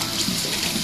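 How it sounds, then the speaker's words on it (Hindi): Water is poured into a bowl of garlic and ginger paste during home cooking, a soft continuous splashing trickle heard close by and alone, with no talking. "अभी जो इसको अच्छी तरह कर रहे हैं मिक्स, अभी ये रेडी नहीं हुआ, थोड़ा सा पानी भी डालते हैं इसमें।"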